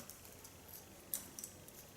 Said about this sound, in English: Closing my scissors not once but 2-3 times, so you get different lengths.